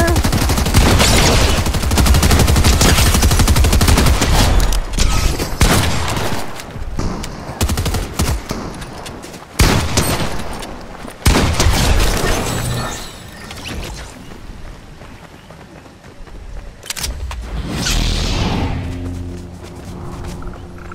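Sustained automatic gunfire in a Fortnite match, a dense loud barrage over the first stretch that breaks into scattered shots and thumps, fading to quieter game sounds later.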